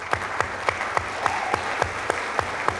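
An audience applauds at a college awards ceremony, with continuous dense clapping of a sizeable crowd and a few sharper claps standing out at a regular rhythm, close and fairly loud.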